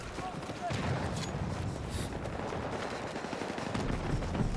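Gunfire and explosions rattle across a Battlefield 6 match, with rapid bursts and heavy booms rumbling at mid distance while a voice talks over the battle.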